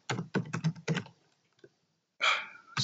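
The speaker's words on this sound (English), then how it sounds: "I have to type the entire thing" Quick keystrokes on a computer keyboard as a chat command is typed during Minecraft parkour play, a burst of close, distinct clicks followed by a pause and a louder clatter.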